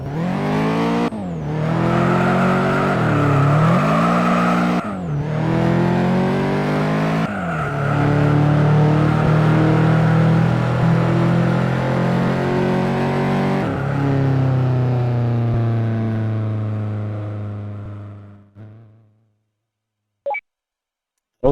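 Honda CRX in the racing video game Juiced, engine revving hard through repeated gear changes, each shift a brief drop before the loud buzzing note climbs again, then fading out near the end.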